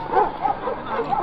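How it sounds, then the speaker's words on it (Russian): Yakutian Laika at a dog show, giving short yips and whimpering barks several times over a steady background with voices murmuring in the ring. "Первая собака в ринге."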